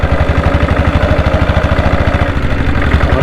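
Loud, close engine idling with a steady rapid thumping pulse, a chugging 7.5 HP single-cylinder diesel Bullet motorcycle running without a break.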